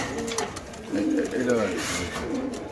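Low, throaty cooing of King pigeons repeats in soft bursts close by at a pigeon farm market, with background chatter and bustle.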